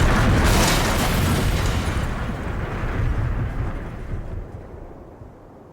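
A plane crashes into trees in the Australian outback, a loud roaring impact with heavy booming and rumbling that slowly fades and thins out over several seconds.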